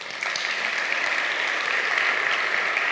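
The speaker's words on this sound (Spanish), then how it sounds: "Dar un aplauso al Rey." A church congregation applauds the King during a sermon, a steady, dense wash of clapping that holds evenly throughout.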